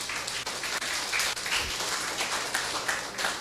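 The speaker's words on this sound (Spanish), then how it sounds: "yo que usted le diera un aplauso al Señor por eso." A church congregation claps together in a steady, moderately distant round of applause, with scattered individual claps standing out and no talk over it.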